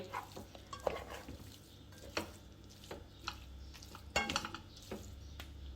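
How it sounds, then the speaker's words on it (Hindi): Cooked chicken and vegetables tossed together in a pan for a chicken and spaghetti roll filling, with scattered scraping and clattering knocks of the utensil against the pan over a faint sizzle; no talking. "अब इसको अच्छे से आप इसको एक दूसरे के साथ टॉस कर लीजिए"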